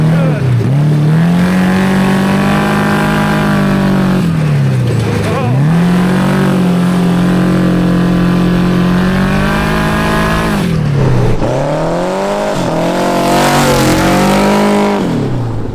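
A supercharged four-cylinder wheelbarrow vehicle drives near a drag strip at a mini bike event, its engine droning loud and close with a strong harmonic hum that dips and rises as revs change across the run.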